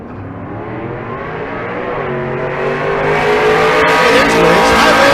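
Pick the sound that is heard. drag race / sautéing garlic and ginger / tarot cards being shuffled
drag race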